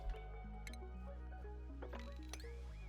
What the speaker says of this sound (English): let's just drip some water